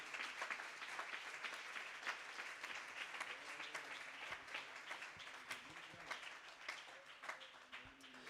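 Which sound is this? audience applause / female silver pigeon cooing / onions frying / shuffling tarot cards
audience applause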